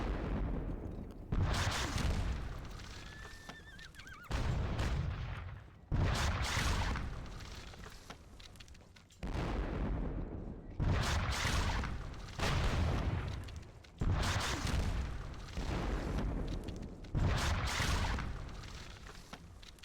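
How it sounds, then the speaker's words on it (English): Repeated heavy artillery cannon blasts in the Seven Years War strategy game WDS Seven Years War, Battle of Zorndorf: about seven loud, close booms with rumbling, decaying tails, fired at irregular intervals of a few seconds, with no talking. "At least my artillery is now returning the favour from earlier"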